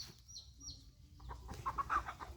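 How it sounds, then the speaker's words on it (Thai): Fighting roosters cluck and squawk, first faintly and then more loudly in a quick burst of calls at the end. The birds are being pulled apart at a cockfight. "กรรมการแยกไก่ตีกัน"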